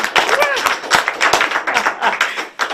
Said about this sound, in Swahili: ongerera Esther makofi mega tafadhali